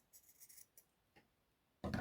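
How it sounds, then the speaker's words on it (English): Several close, crisp snips and rasps of scissors cutting the end off a pair of tights, in short bursts, followed by a louder thud or rustle at the end. "cut off the end of the tights there."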